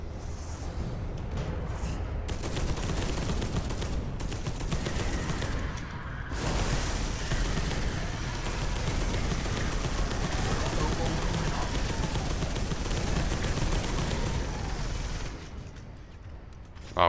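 Continuous heavy gunfire from Space Hulk: Deathwing, with dense sustained automatic shooting and rumbling impacts over about fifteen seconds. It fades toward the end.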